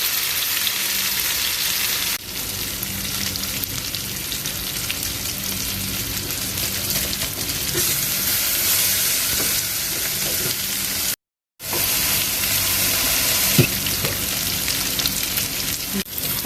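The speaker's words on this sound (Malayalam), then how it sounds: "അങ്ങനെ നമ്മൾ നമ്മുടെ ആവോലി ഫ്രൈ ചെയ്യാൻ വെക്കുകയാണ്" Avoli fish sizzles steadily as it fries on a bed of curry leaves in hot oil, a dense continuous crackle with faint spatters, briefly cut off once before resuming.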